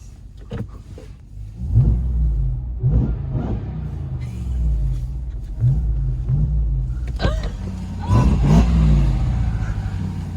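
A 2021 RAM TRX pickup truck's engine rumbles low and steady nearby, swelling a few times as it revs, with faint voices mixed in.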